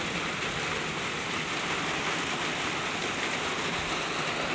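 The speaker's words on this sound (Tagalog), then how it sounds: "Lumalakas yung ulan. Lalong lumalakas yung ulan mga palangga." Heavy typhoon rain pours down without letup in a dense, loud, even hiss, as at a small shop where water is leaking inside, with no talking.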